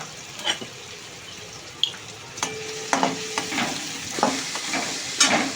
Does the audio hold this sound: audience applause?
no